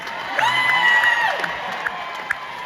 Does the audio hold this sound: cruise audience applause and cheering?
yes